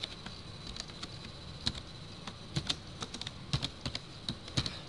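Typing on a computer keyboard: quiet, irregular clicks and key taps in short clusters, close up with no talking.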